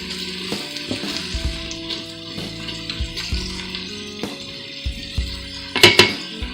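Onions sauté in an Instant Pot with a soft, continuous sizzle. Repeated stirring clacks and utensil taps mark the surface, and a sharper metallic clatter comes near the end.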